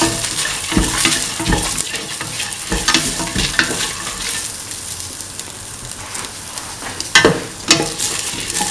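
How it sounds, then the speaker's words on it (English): Snake gourd sautéing in a pan for coconut milk rice, loud continuous sizzling with repeated scraping and stirring strokes close up, no voices. "Keep on sauteing."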